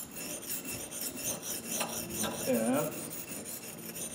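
A hand file rasps back and forth across a garden clipper blade in even strokes, close and fairly quiet, with a faint metallic ring and a single spoken word.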